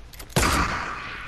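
A single loud gunshot in the Fortnite video game with a sharp onset and a lingering echoing tail, after faint scuffling.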